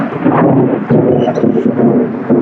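Loud rumbling thunder rolls continuously, a deep sustained roar with no voices.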